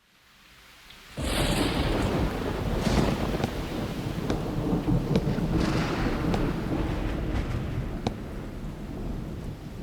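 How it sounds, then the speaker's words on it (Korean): Stormy night with thunder and driving wind and rain: a quiet start, then a sudden loud rumbling roar that holds steady, with sharp crackles scattered through the continuous wind and rain noise. "니콜라 테슬라가 태어나던 밤 번개와 비바람이 몰아쳤다고 하죠"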